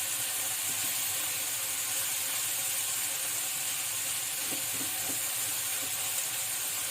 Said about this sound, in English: Now I'm going to add my garlic, which is going to give that fantastic flavor. Just cook it for 1, maximum 2 minutes.